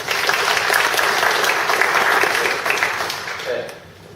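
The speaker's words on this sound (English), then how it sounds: "Let's give them a round of applause, all right?" Sustained audience applause at an evening business networking meeting, a dense wash of many hands clapping that holds steady, then thins and fades near the end, with a faint voice surfacing as it dies down.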